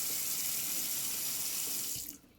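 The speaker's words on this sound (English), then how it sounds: "Now we turn on the tap to make sure the water is running away freely." Kitchen tap pouring water into a sink while it is being unblocked, a steady close hissing rush that cuts off abruptly near the end, leaving quiet.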